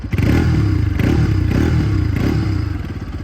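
A Hero Karizma XMR 210 motorcycle exhaust roars up close, revved in repeated rhythmic bursts with a throaty, rattling rumble.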